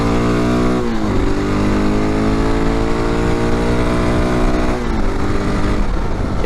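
Honda XR650L motorcycle pulling hard at wide-open throttle on a highway after a downshift from about 45 mph, a loud, close engine roar with a pitch dip at the gear drop near one second and another shift around five seconds.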